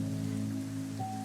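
Steady rain falling in a garden during the monsoon season, a dense, even hiss of drops on surfaces that continues throughout, with sustained musical tones underneath.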